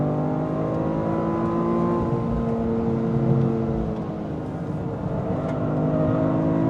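A 2026 Toyota GR Corolla accelerates on throttle, its engine a steady, rising harmonic drone heard from inside the cabin at high speed, with road and wind noise underneath.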